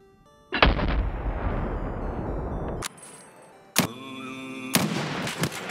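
A bolt-action sniper rifle fires in Escape from Tarkov with a loud, sharp report and a long rumbling tail, followed by further sharp bursts and mechanical game sounds.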